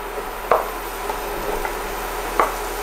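Chopped courgette scraped off a board into a pan with two distinct, close knife scrapes spaced about two seconds apart over a steady low hum.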